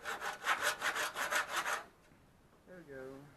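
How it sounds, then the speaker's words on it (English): A hand saw cuts through teak in a knife-making workshop with about ten quick, even rasping strokes for two seconds, close and loud, then stops and leaves near silence with a brief tonal squeak. "just going to cut the teak"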